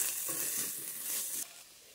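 Beef for strogonoff sizzles steadily in a pan as the liquid cooks off and a crust forms on the bottom, with stirring adding soft scraping; the sizzle stays loud and even, then drops sharply near the end.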